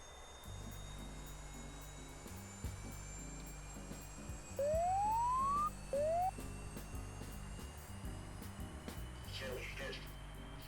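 OH-58 Kiowa helicopter cockpit alert tones during startup in a flight simulator: a longer rising electronic tone followed by a short second one, clear above a steady engine drone.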